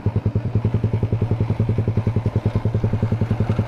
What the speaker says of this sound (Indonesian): motor gua kenapa nih bunyi-bunyi?